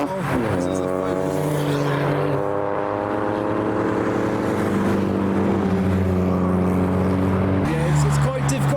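A Ford Focus rolls into a car show among other fast Fords, its engine a steady, loud, harmonic drone that shifts pitch partway through and rises again near the end, with people talking over it.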